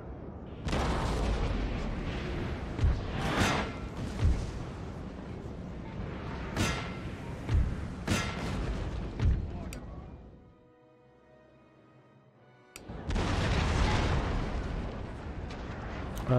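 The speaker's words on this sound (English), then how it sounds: "I'm just going to allow those cannons to fire at will." Cannon artillery fire in a Napoleon: Total War battle: a steady din of repeated booms and blasts that breaks into a short quiet gap, then resumes at full loudness.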